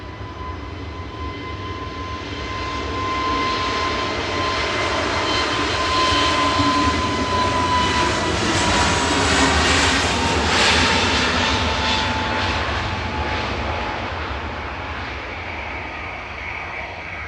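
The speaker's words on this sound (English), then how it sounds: "Next up for departures, Jet2's Sun J. They're one of their newest delivered A321s" Jet2 Airbus A321, one of its newest deliveries, departs Manchester Airport for Dalaman with a broad steady jet roar that swells in the middle and eases toward the end, with a thin whine running through it.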